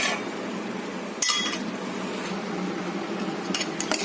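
A spoon stirs sugar into a mango pudding mixture in a bowl, with a few clinks against the side and soft scraping swirls in between, close and fairly quiet.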